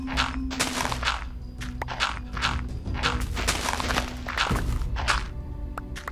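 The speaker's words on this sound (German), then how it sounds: "höre doch da schon wieder Schritte" Footsteps in the Minecraft video game, a steady run of soft repeated thuds and crunchy steps at even rhythm over a constant low hum, fairly close and moderately loud, with no talk.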